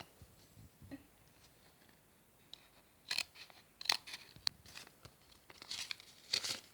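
A handmade surprise package is opened up close, with soft scattered paper crinkles and a few sharper tearing and crunching bursts toward the end, faint and without speech.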